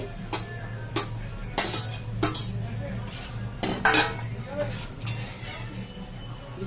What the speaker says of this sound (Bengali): আমি চিংড়ি মাছটা ঢেলে দিচ্ছি